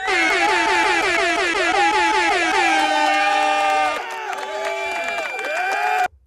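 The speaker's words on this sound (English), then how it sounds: "Stand by for your air horn." Loud air horn effect blaring in long sustained blasts with wavering, stepping pitch for about six seconds, then cutting off abruptly, with crowd noise beneath.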